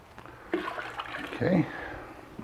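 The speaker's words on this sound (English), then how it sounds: "now I'm gonna go ahead and add my strike water from my kettle below into here and mix in my grains" Strike water pours from a brewing kettle into a mash tun for a Belgian witbier, a splashing liquid rush that swells to a louder gush near the end, close by.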